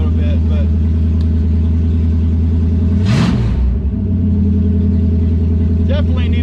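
The engine of a 1970-1976 Mopar A Body car runs at a steady, loud, rumbling idle at fairly high RPM. A brief whoosh passes midway through.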